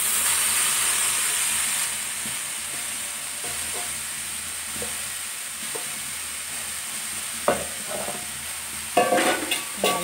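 Salted, squeezed onions stir-frying in a dry pan for beef curry, a steady loud sizzle with scraping stirs and a few sharp utensil knocks toward the end.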